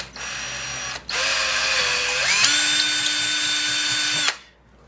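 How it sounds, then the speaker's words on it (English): Power drill boring a hole through the plastic body of a Polaroid 600 instant camera, a close, loud steady whine that briefly cuts out, restarts, shifts pitch as it bites through, then stops abruptly. "now I've just got to drill the hole that goes through the body of the camera and into the rear"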